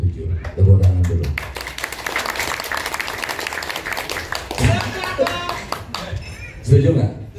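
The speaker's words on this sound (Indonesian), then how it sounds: "Tepuk tangan dulu." Applause from an audience at a Pemuda Pancasila regional meeting in a hotel hall, rising after a spoken introduction and rolling on for several seconds, with a voice over the PA at the start and again near the end.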